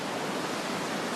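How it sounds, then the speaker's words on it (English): Steady broadband rush of a flowing stream beside a road lined with waterfalls, a continuous close wash of water with no voices. "We got a flowing stream right here."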